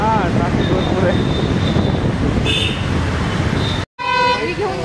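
Busy rainy-day road traffic with several car horns tooting in short repeated bursts, some near and some farther off, over a rumbling vehicle and wind buffeting the microphone, with a brief dropout near the end.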